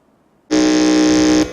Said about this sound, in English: So can we hear the buzzer or the sound from the buzzer for Jsmq?